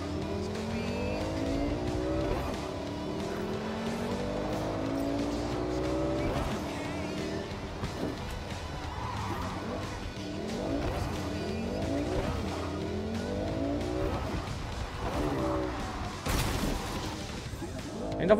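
Car tires squealing and skidding as the handbrake is pulled in Cyberpunk 2077, a loud sustained screech with revving engine, repeating in several sweeping bursts under steady game sound.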